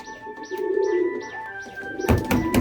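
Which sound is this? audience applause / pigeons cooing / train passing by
pigeons cooing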